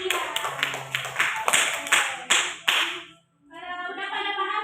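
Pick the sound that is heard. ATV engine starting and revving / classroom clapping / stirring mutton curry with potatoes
classroom clapping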